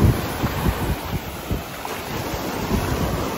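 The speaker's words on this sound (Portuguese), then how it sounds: "O mar aqui é um pouquinho mais agitado" Rough sea waves wash against a rocky Algarve beach with caves, a loud continuous roar of surf mixed with gusty wind buffeting the microphone, with no talking.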